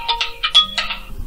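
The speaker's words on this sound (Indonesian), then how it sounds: "telepon berdering" A telephone rings with short repeated electronic bursts, fairly loud and close, heard alone without talk.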